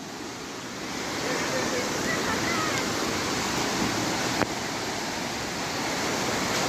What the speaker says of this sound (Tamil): நம்ம வந்து கேத்ரின் வாட்டர் ஃபால்ஸ் இப்போ பார்க்க போகிறோம்